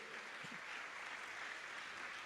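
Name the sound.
church congregation applauding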